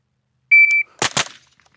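A shooting timer beeps once, then a Gen 3 KRISS Vector fires two sharp, loud, close shots in quick succession, the blasts coming about a fifth of a second apart.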